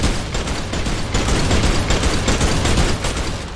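A high-recoil gun in Fortnite fires rapidly in a loud, dense, continuous stream of shots that carries through the whole stretch with no talk.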